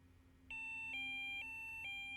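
A Delkim Rx Plus Pro bite alarm's anti-theft alarm sounds as a series of clear electronic beeps, roughly four evenly spaced pulses after a quiet start, close and moderately loud.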